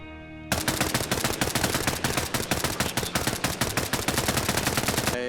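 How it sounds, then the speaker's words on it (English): Rapid bursts of gunfire in the military simulation game Arma, loud and close, a dense, rhythmic string of shots that starts abruptly and keeps going without pause. "I heard gunshots."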